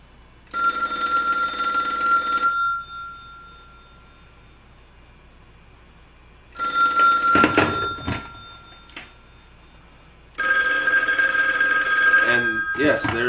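A Viking DLE 200B two-way phone line simulator on a ringdown circuit sends a telephone ring in three bursts, each about two to four seconds long with quiet gaps between them, loud and close, with faint talk during the second burst.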